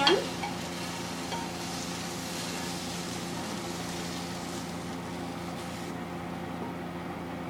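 Apples sizzle softly in a frying pan as they are stirred with the heat just turned off, a low steady fry with faint scraping, fairly quiet and without talk.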